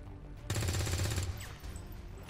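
Soldiers firing in the XCOM 2 video game: a burst of rapid automatic gunfire, a tight run of repeated shots lasting under a second, followed by fading echoes and quieter rattling.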